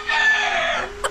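Chickens on a rainy farm with a rooster crowing in one long, loud, sustained call that fills nearly the whole moment, followed by a brief clucking note at the end; no one speaks.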